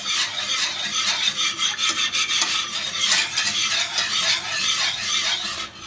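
Milk being stirred in a saucepan as it warms on the stove for homemade pastry cream for a cherry tart, giving a steady scraping, rubbing swirl that continues unbroken and fairly close throughout, with no voices.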